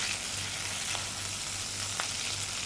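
Spices fry gently in oil in a pot for a one-pot chicken and tomato rice, a soft, continuous sizzle with a couple of faint pops over a low background hum.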